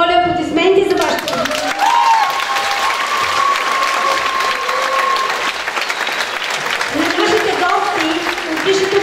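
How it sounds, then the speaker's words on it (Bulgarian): An audience at a school graduation send-off breaks into loud, sustained clapping, with voices heard at the start and end and a held musical tone sounding partway through. "моля аплодисменти за вашето"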